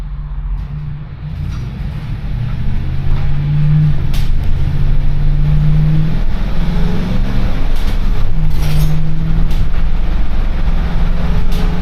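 A Ford E450 shuttle bus with a 7.3-liter Godzilla V8 drones past at close range, a loud, steady low engine rumble that swells after a few seconds, with occasional higher mechanical clatter and road noise over it.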